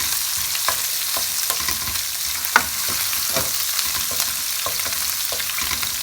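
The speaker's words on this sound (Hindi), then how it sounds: "इनको भी हमने ऐड कर लेना है और इनको भी हमने थोड़ा सा भून लेना है।" Slit green chilies fry in a pan for dhaba-style dal palak tadka, giving a steady oil sizzle broken by irregular clicks and taps of stirring, close and continuous.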